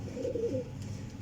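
Pigeons coo softly in a short, low, throaty call, close and fairly quiet, with no talking.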